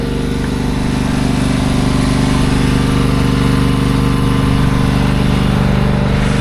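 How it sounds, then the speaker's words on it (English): A Husqvarna mower drones loud and close while cutting grass in front of a facility, its engine steady and unbroken throughout. "that's the first time we've actually cut in front of the facilities with the Husqvarna"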